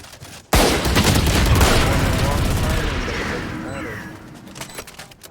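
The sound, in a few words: gunfire in the video game Valorant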